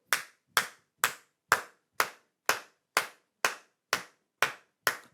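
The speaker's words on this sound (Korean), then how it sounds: "박수만 치기 시작했어요" Eleven single hand claps at an even, moderate pace, each sharp and close with a short decay and silence between, during a children's church service.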